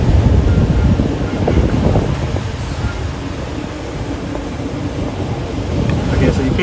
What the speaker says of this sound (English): the storm pretty much is almost at full effect